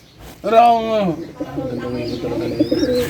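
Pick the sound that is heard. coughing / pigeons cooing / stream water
pigeons cooing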